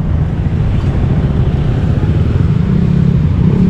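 Motorcycles parked in a crowded lot beside a Friday market in Bocaue, with a steady low engine rumble and idling close by under open-air wind noise.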